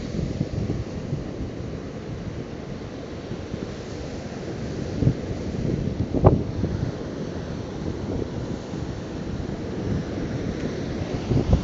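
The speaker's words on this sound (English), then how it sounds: "I hope you caught a glimpse of that seawater noise, the waves crashing" Ocean surf rolls and crashes on Kenai Beach, Alaska, beneath strong gusting wind buffeting the microphone, with one sharper wave break midway.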